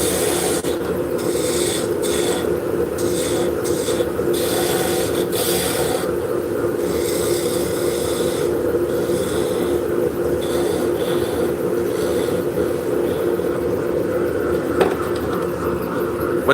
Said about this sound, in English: What speed do I sand at?